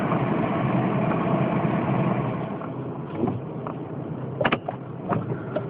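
A car engine runs steadily during the ride to work, a low continuous drone with road rumble and a few brief knocks and rattles near the end, with no talking.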